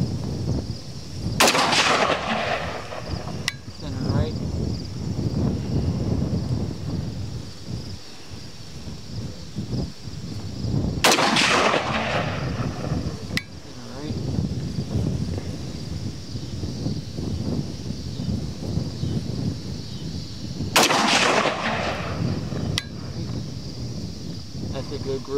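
Three loud 5.56 rifle shots with AAC 55 grain ammunition ring out about ten seconds apart on an outdoor range, each a sharp crack with a rolling echo, while someone talks in between amid wind noise.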